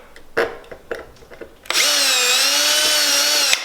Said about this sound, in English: I like to drill 1 hole each